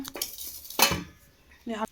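Steel lids and dishes clink while food is being served in a home kitchen: a few sharp metallic knocks and rattles, close and separated by quiet pauses.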